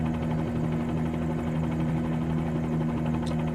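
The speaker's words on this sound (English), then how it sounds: "let me just try and take off and see if I can take the helicopter out of here without bringing the stadium with me" Helicopter lifting off in a flight simulator over a stadium in Paris, a steady droning rotor and engine hum with a strong low tonal buzz, constant and unbroken throughout.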